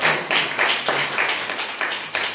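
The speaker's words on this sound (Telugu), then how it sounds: "చప్పట్లు కూడా దేవుని నామమున" A church audience claps in rhythmic bursts, roughly four to five claps per second. The clapping is close, steady and bright, with a faint voice underneath.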